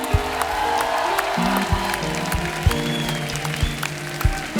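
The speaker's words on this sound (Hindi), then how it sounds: "क्या बात है, जोरदार तालियां हो जाए।" A studio audience at a Hindi comedy talk show claps and cheers in a steady burst of applause, with a few louder claps and voices mixed in throughout.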